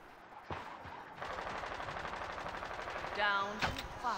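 Sniper gunshots in the video game Old Roots: a couple of sharp, loud cracks stand out over a rapid rattling run of fire, with a voice talking over part of it.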